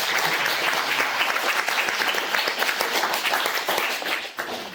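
A church congregation applauds steadily, many hands clapping in a dense, continuous patter that fades slightly at the end.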